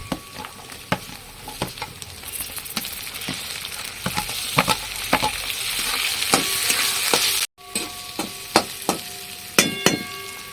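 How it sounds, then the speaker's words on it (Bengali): Potatoes frying in a pan with onions and cumin, a loud steady sizzle broken by repeated sharp scrapes and knocks of a spatula stirring, no talk. "এবার আলুগুলো ছেড়ে দেবো"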